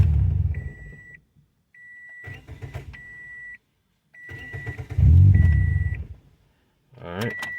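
A Toyota/Scion car with an emptied fuel rail, mid fuel-injector replacement, cranks in several separate bursts, with short electronic chime beeps between the attempts.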